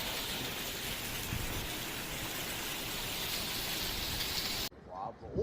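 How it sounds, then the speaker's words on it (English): Hailstones pelt the ground during a violent storm in a dense, steady, hissing patter that fills most of the moment, then breaks off suddenly into a brief voice. "Footage from that day showed hailstones pelting the ground"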